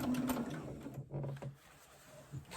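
A sewing machine stitches binding onto a batik quilt in short, moderately quiet runs of fast needle whirring, separated by brief pauses.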